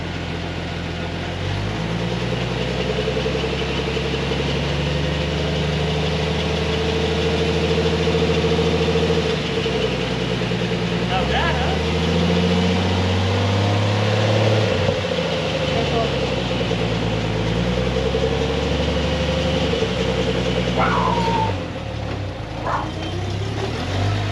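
A 1999 Jeep Wrangler with a freshly repaired Dana 35 rear differential runs steadily near the microphone, its low engine hum holding at idle with gentle swells in pitch while people talk in the background.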